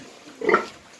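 A single short grunt from a pig raised on a pig farm in Batero, close and moderately loud against a quiet background, with no one talking.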